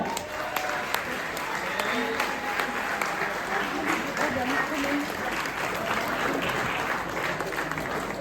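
Steady applause from a live Danish audience, dense clapping from many hands running unbroken and fairly loud throughout, with no individual voices standing out.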